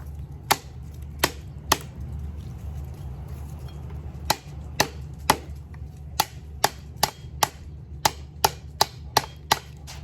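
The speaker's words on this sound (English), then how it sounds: "let's move on to see how it does against some food prep, chopping food prep here" An Arkansas toothpick dagger chops food sharply against a board in uneven strikes, loud and close, with a low steady hum underneath.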